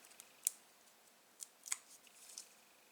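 Backing paper peeled off an adhesive embellishment for a handmade card, a few soft crisp crackles and snaps heard close and quiet, with no talk.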